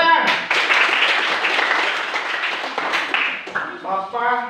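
A classroom of students claps together, a short burst of applause mixed with voices and chatter, ending as a speaking voice returns near the close.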